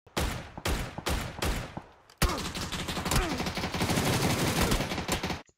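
Video game gunfire: several separate sharp shots at first, then a sustained rapid burst of automatic fire, loud and close, with no talk.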